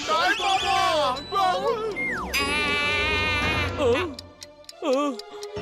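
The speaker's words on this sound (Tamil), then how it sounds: "இந்த பெட்டிக்குள்ள இருந்து டிக் டிக்னு சவுண்ட் வருது" A suspected time bomb ticking inside a box in a cartoon scene, heard as a faint tick-tock under animated voices, music and sound effects.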